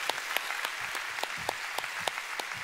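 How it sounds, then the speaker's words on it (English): A church congregation applauds for the Lord, a dense steady wash of many hands clapping with a few sharper nearby claps standing out rhythmically above the crowd. "come on, go ahead and give the Lord a big hand."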